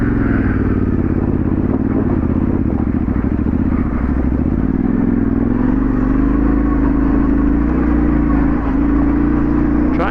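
A Yamaha T7 motorcycle climbing a loose trail, its engine droning loud and close in low gear with a steady rumbling pulse and the revs slowly rising.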